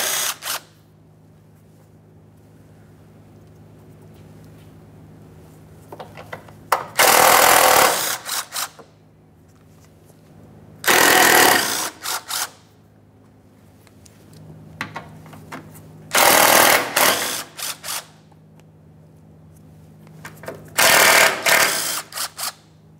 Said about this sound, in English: Now we can remove some 10mm headed mounting bolts.